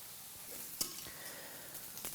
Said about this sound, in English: Put it on, sizzling hot pan